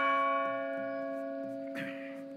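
A church bell tolls in the video game Splinter Cell at the Georgian Presidential Palace in Tbilisi, a sustained ringing hum that slowly fades, with a faint ticking pulse and a soft noise burst near the end.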